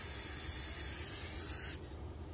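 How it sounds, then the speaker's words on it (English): Steady hissing spray from an aerosol can misted onto a wig cap during a wig install, close and continuous for nearly two seconds, then cutting off with a brief sharp noise at the end. "I give it one more spray just to make sure the wig cap don't move."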